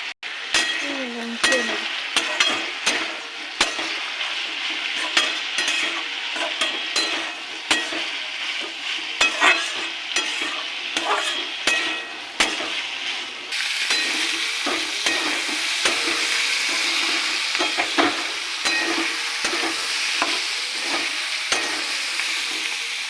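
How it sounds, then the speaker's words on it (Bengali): Onion stalks, kamranga beans and potatoes stir-fry in a pan with turmeric and salt, a continuous sizzle under rapid, repeated scraping and clinking of a spatula throughout, close and busy, with no speech. "হয়ে গেছে পেঁয়াজ কলি, শিম আর আলু দিয়ে ভাজা।"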